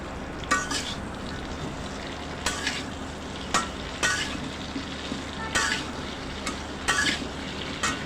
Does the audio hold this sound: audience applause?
no